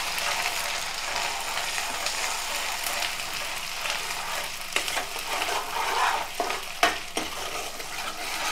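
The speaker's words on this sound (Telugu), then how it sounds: "అదే నూనెలోని కొంచెం ఒక 2 స్పూన్లు అల్లం వెల్లుల్లి పేస్ట్ వేసాను అంతే" Ginger garlic paste fries in hot oil for a mutton keema pickle, giving a steady, close sizzle with a few scraping stirs near the end.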